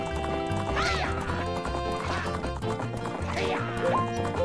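Horses racing in the video game Zelda: Majora's Mask, with repeated whinnies and galloping hoofbeats layered over steady game music.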